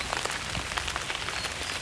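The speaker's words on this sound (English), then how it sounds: "Sounds like the rain is getting heavier." Heavy rain drums on a hot tent during a storm, a dense, close patter with scattered sharper drop hits, steady throughout and without voices.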